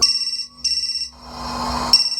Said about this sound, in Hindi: चार्ज पर लगा उसका फोन अचानक से बज उठा